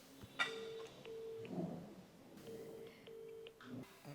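Telephone dialing tones while placing a phone call: a series of short, steady beeps of varying pitch, spaced irregularly and heard faintly over a low background hiss.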